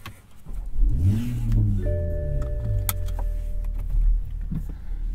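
A 2021 Toyota Supra with the 3.0 engine pulls away, its engine rising in pitch as it accelerates from a stop, steady and close from inside the cabin, with faint clicks and a brief electronic chime layered over the engine note.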